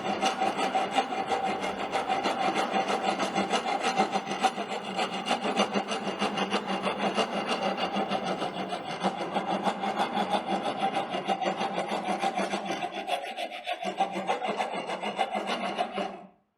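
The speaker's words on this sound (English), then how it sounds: "now the planing or smoothing of this will be done with the help of rasp file" A rasp file smoothing and planing a wooden surface in a carpentry workshop, giving a continuous, close, harsh rubbing and scraping that runs unbroken for the whole stretch, with a brief dip near the end.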